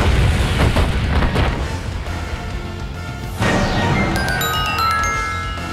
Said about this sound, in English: Oh, that's one big megaton bomb.